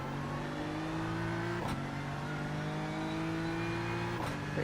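A BMW GT3 race car in a racing video game, its engine droning at steady revs that climb, then twice snap down with a gear shift before rising again, loud and continuous with no talking.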